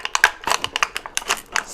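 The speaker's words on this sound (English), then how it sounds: "Let's see if my safety scissors can do this." Quick, close crunching snips and crinkles of safety scissors cutting through a stiff egg carton, an irregular run of sharp clicks.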